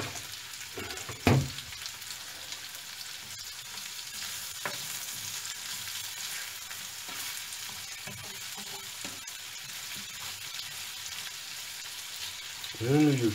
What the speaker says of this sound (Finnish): Se saa melkein kiehua siellä öljyssä.